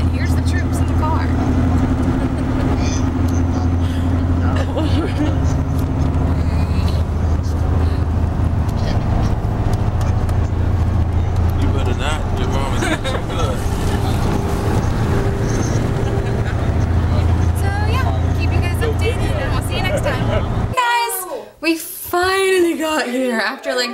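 A car cruises along a highway in Virginia, its interior filled with a steady, low road rumble and engine drone that continues for most of the clip before a voice speaks briefly near the end.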